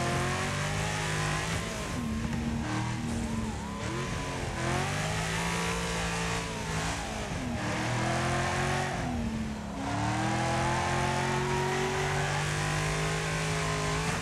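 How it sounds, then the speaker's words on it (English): Super Venom race car in the Wreckfest racing video game, its engine droning loud and steady with rising and falling revs as it accelerates and shifts through a race, with no talk. "The Venom, the Super Venom is bloody quick, isn't it?"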